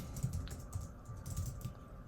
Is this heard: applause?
no